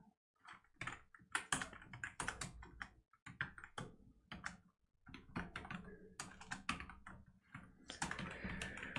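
Steady computer keyboard typing with bursts of rapid keystrokes and short pauses, close and clear with no voices, while a web layout is coded in Next.js 13.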